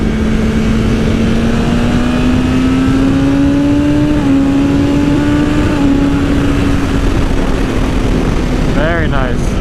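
BMW S1000 motorcycle engine pulling hard through its rev range, a loud continuous drone rising in pitch, dipping briefly at a gear change and climbing again, heard up close over heavy wind noise.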